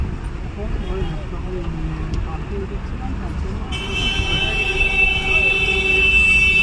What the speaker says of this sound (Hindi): ये कोलकाता का रेलवे स्टेशन हावड़ा स्टेशन जो बहुत ही सुंदर है।